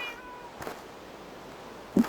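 A cat meows in the Minecraft video game, one short cry near the start and a sharper mew at the end, heard alone against quiet background.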